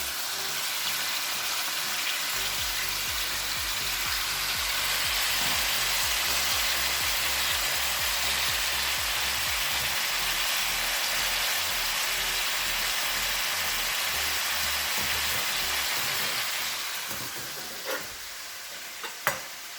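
Onion and dandelions for a dandelion fricassee fry in a pan with a steady, close sizzle and stirring for most of the stretch. Toward the end the sizzle eases off, leaving a few light clinks.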